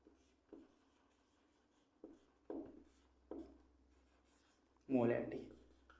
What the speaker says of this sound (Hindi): तो सबसे पहले हम इसका फॉर्मूला लिखेंगे